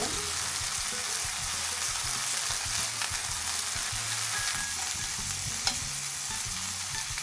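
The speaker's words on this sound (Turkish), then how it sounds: "Biraz yüksek ateşte pişiriyorum. Çok kısık ateşte pişirirsek sulanır." Meat for İskender frying in a pan over high heat gives a loud, continuous close sizzle with occasional stirring scrapes and a sharp tick near the end, with no voices.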